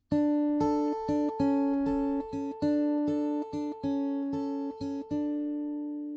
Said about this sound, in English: this part is played by the synth